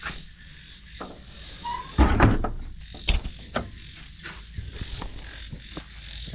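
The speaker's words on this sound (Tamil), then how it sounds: "கதவை சாத்திடலாம்." A farm door is shut at night around 10 PM, its creaks and hollow knocks and bangs landing irregularly over a steady background of croaking frogs and insects in the dark fields.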